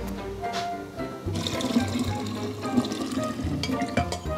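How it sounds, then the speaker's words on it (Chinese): Cooled cooking water, left from boiling beans, poured into a jar in a home kitchen, giving a steady close trickling splash that runs without a break and thickens partway through. "水凉了，正在给它倒罐子里面"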